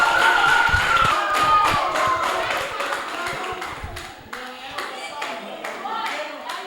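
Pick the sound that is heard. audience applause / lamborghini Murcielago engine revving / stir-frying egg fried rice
audience applause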